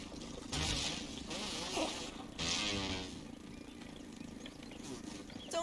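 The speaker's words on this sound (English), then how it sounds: "I can hear that mosquito coming up behind us" A buzzing mosquito drone in the video game Grounded rises and fades in several short bursts over a quiet background, close and fairly loud at moments.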